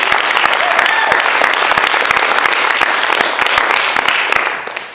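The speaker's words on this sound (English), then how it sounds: "I want to give you the first round of applause." A conference audience breaks into loud, sustained applause with crisp individual claps, filling the whole stretch at an even level and easing slightly only at the very end.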